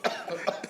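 A person in a radio studio coughing, a short burst of two or three quick, moderately loud coughs.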